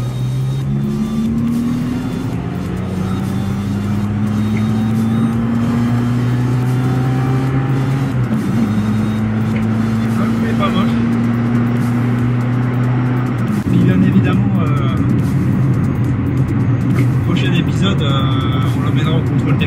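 A Peugeot 106 with a 60 hp engine is heard from inside as it revs and pulls through the gears, the engine pitch climbing and then resetting in steady steps, loud and continuous under a person talking.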